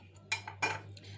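A metal spoon clinks twice against a dish while crushed garlic is added to a cauliflower frying mix, two sharp separate taps over a steady low hum.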